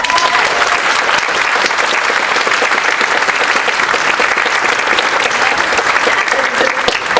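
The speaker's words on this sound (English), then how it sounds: "let's give you all a big round of applause" A large crowd at a state awards ceremony breaks into loud, sustained applause, thick and unbroken clapping that stays at full strength from start to finish.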